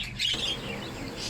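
Birds chirp in short, bright bursts over a steady wash of rain on a wet day, the calls close and clear at the start and fading into the patter after a moment.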